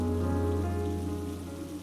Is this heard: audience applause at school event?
no